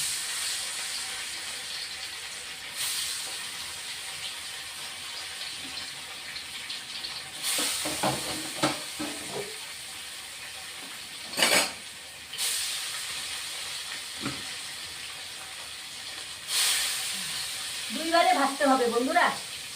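Catla fish pieces fry in hot oil with a steady hiss and sizzle that flares in several loud bursts. Brief voices and clatter come in between, and a voice talks near the end.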